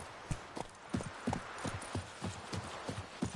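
Roach the horse's hooves clip-clop in The Witcher 3, a steady run of about a dozen distinct hoof strikes at an even walking rhythm, close and moderately loud with no talk over them.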